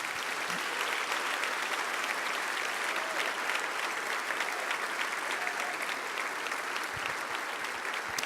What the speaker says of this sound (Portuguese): Vamos aplaudir essas vidas que estão vindo